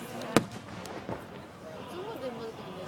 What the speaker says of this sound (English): There's too much fireworks so you can get to sleep.